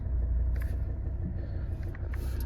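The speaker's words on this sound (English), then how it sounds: "Just start the car up" A Volvo XC60 2.4 D5 diesel engine idles with a steady low rumble after starting, a smooth continuous drone with faint higher ticks and no talking.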